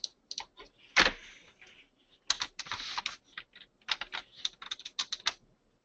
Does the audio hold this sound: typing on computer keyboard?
yes